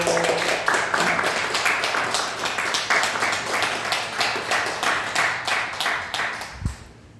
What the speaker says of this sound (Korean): 박수로 축하해 주세요.